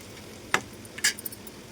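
A spoon scrapes and knocks a few times in a pan while chili powder is stirred into egg curry, giving two or three short, sharp clinks over a faint background hiss.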